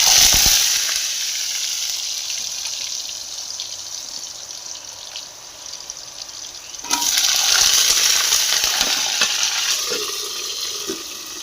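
Potatoes hit hot oil with a loud hiss that settles into steady sizzling, then flares up again midway as frying continues in a home kitchen, no talk.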